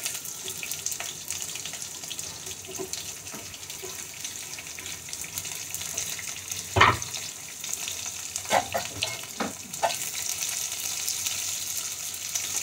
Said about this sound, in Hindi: अब मैं इसमें लंबे लंबे कटे प्याज डाल देती हूँ।